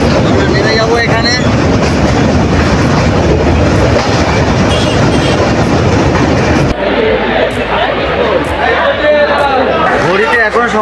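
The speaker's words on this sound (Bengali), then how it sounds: "আমাদের ট্রেন তার নির্ধারিত সময় থেকে 4 ঘন্টা দেরিতে এসে পৌঁছালো" A long-distance passenger train rolls into Dakshineswar station after a journey from Gaya, with a loud steady rumble and clatter of wheels on rails that eases as it slows, and crowd chatter throughout.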